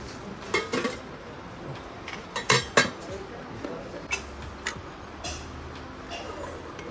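Steel buckets, cups and curry pots clink and clatter as they are handled in an early-morning kitchen, a few close metallic knocks and rattles in irregular bursts.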